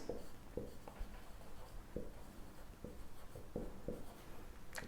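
Chalk or marker writing on a board during an English lesson, with scattered short taps and strokes at an uneven pace, fairly quiet against room noise.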